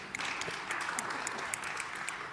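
A crowd claps steadily throughout, a dense and even patter of applause heard from a distance.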